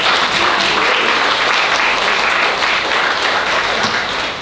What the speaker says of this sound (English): let's give our presenters and facilitators another round of applause